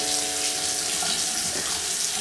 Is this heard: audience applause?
no